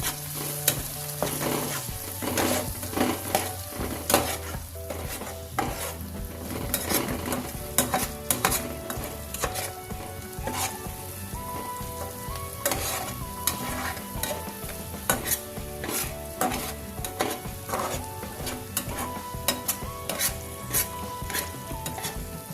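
Masala fries and is stirred in a pan for Uttara Karnataka style egg burji, a steady sizzle with repeated scraping strokes, close and continuous, under background music.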